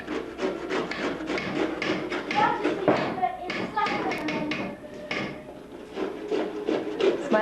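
Ingredients for ossi di morti grated by hand in a home kitchen make quick, rhythmic scraping and tapping strokes under lively talk and chatter from several people nearby.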